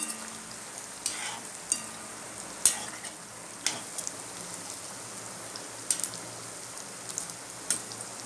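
Pieces of taro root (cheppankizhangu) fry in oil during the making of a taro root fry, with a steady soft sizzle broken by a handful of sharp clicks and taps as the pieces are flipped over in the pan.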